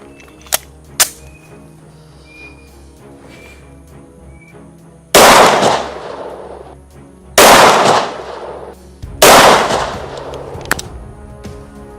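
Three loud, sharp gunshots ring out a couple of seconds apart at a shooting range, each with a reverberant tail, after a few faint clicks and metallic handling sounds.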